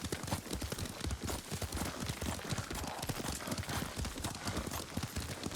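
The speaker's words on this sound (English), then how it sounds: "Lord Sakai taught me to ride a horse." Horse hooves clip-clopping steadily as a rider travels in Ghost of Tsushima, a fast continuous gallop rhythm close and clear under a bed of wind and ambient game noise, with no talking.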